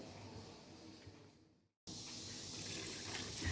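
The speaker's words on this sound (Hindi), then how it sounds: "तो आधा गिलास हम इसमें डालेंगे पानी।" Water pours into a pot of palak gosht in a steady rushing gush, briefly cut off, then resuming stronger, close and continuous.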